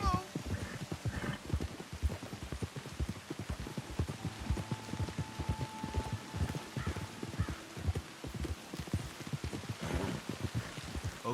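Horses trot on a road in Red Dead Redemption 2 with steady, overlapping clip-clop hoofbeats against a rainy patter, while a faint tone hums briefly and a voice speaks now and then.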